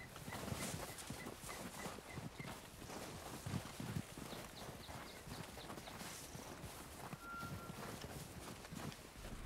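Horse hooves clip-clop steadily in the Red Dead Redemption 2 video game, a fairly faint, rhythmic walking gait over a dense, noisy outdoor background.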